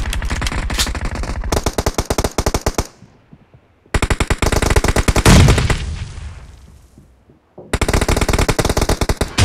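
Rapid automatic gunfire in PUBG (BGMI) team deathmatch, loud close bursts of repeated shots in three long volleys separated by brief pauses, with a decaying rumble between them.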